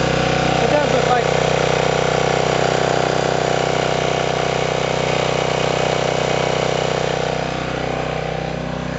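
A small flathead four-cycle engine runs steadily under extra load, driving an AC unit, with a continuous close, even putter that holds constant and eases slightly near the end.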